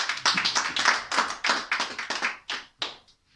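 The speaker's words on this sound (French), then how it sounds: "Est-ce qu'on peut acclamer le Seigneur?" A church congregation clapping in praise of the Lord, a run of about a dozen sharp, rhythmic clap bursts at a steady pace that thin out and fade at the end.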